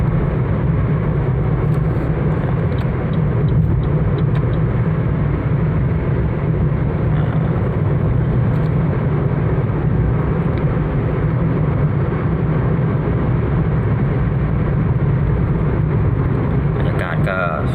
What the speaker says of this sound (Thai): รถนี้ก็เข้าโค้งได้ดีนะครับ